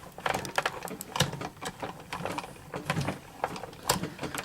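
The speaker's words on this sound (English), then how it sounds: "Now I'm going to crank. Now what I like to do on this is crank twice." A hand-cranked die-cutting machine pressing Framelits and Thinlits dies gives off a steady run of clicking, ratcheting mechanical sounds across two passes. The sound is close and moderately loud, with no talking.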